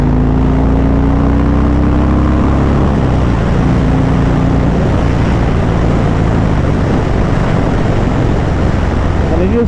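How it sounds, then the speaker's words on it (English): Harley-Davidson Sport Glide motorcycle pulling hard in fourth gear, a steady loud low engine drone with rising tone, heavy wind rush throughout, no pauses. "I might even try him in 4th gear here"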